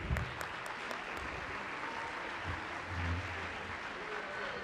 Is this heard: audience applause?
yes